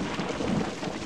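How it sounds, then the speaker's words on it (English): Thunder in the horror video game Nun Massacre, a brief loud low rumble, heard on its own. "That thunder is crazy."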